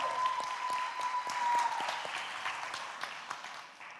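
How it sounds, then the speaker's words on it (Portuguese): A church congregation claps for the worship team after a service song, many hands pattering steadily at moderate distance, with a lingering tone fading beneath and the clapping thinning toward the end. "Uma salva de palmas de novo para o louvor."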